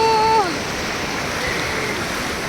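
Sea waves wash onto the beach at Alibag in a continuous broadband rush, fairly loud and steady, with a short whistle-like tone at the very start.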